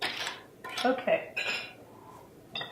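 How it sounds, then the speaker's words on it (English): A wooden spoon breaks up whole canned tomatoes inside the metal can, giving scattered clinks and scraping knocks of wood against tin, fairly faint, in short separate bursts. "Just cut up those tomatoes a little bit inside the can."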